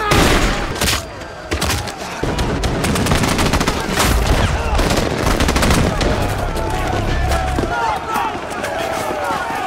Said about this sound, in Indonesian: pasukan militer langsung memberondongnya dengan tembakan